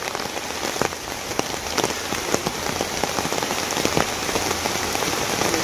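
Steady rain falls outdoors near a river crossing, a dense, even hiss of drops striking surfaces with occasional louder, closer drop impacts throughout.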